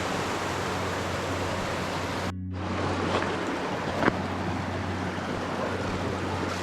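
River in Waihi Gorge flowing steadily, a close, dense wash of rushing water with a brief dropout and a small knock partway through, continuous and unvoiced.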